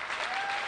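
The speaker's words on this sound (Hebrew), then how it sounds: "מגיע מחיאות כפיים לילדים המוכשרים האלה" A crowd applauds children performers, a brief, dense wash of steady clapping from many hands at an even, loud level.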